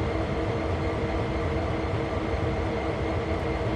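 A locomotive moves along the Sand Patch Grade route in Train Sim World 3, a steady, dense rumble of rolling rail noise that holds at an even level throughout with no voices.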